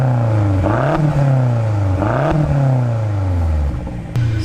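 A BMW M car's untuned engine, the same unit as in the M6 and rated around 570 bhp, idles with a deep rumble and is blipped through a couple of sharp revs that rise and fall back, heard up close.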